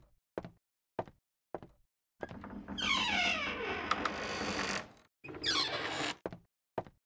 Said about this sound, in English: so that door opened over there